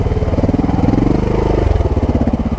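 A Montesa 300RR trial motorcycle engine chugs with a loud, close, low pulsing beat while it climbs a slope, its throb rising slightly and holding steady throughout.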